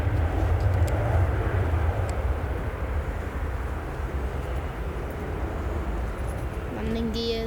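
Airliner climbing out after takeoff at Manchester Airport, a loud continuous jet engine roar that slowly eases, with a faint rising whine near the end.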